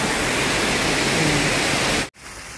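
A waterfall in a large park pours as a dense, steady rushing hiss that fills the whole moment, then cuts off with a brief gap before resuming more softly.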